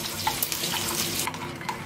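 Cream sauce with a teaspoon of grainy mustard being stirred in a pan, giving a brief stretch of soft, wet swishing and light scraping with faint sizzle-like hiss, close and steady, with no talking.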